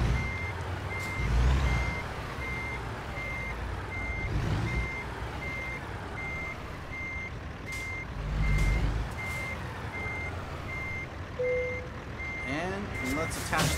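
Reversing alarm of a truck in a trucking simulator, a steady series of evenly spaced beeps over a low diesel engine rumble with occasional air-brake hisses and pneumatic sounds, fairly close, with a person talking over it.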